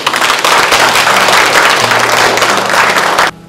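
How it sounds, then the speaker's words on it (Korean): Loud, dense applause from an audience at a Korean welfare association signing ceremony, sustained hand clapping close by for about three seconds before cutting off abruptly. "모두 뜨거운 박수 환영해 주시기 바랍니다."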